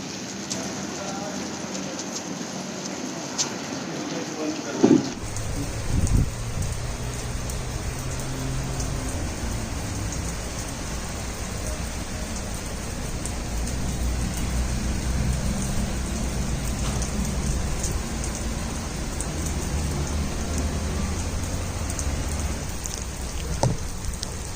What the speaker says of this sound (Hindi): चल आखिर बारिश हो गई अच्छी तरीके से